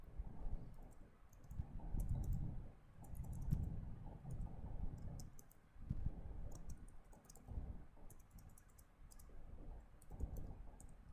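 Typing C++ code on a computer keyboard, a steady run of quiet key clicks in uneven bursts with short pauses, over a low background rumble and no talking.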